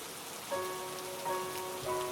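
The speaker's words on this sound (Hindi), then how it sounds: "तभी रात में जोरदार बारिश होने लगती है।" Heavy rain at night patters on a surface, a dense continuous hiss with occasional faint tonal tones drifting through.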